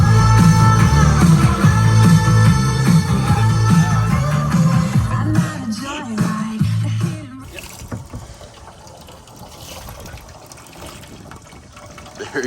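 Trolling motor on a 14-foot Starcraft aluminum boat running at speed 5, a loud, dense hum with water churning against the hull that fades to a quieter wash after several seconds.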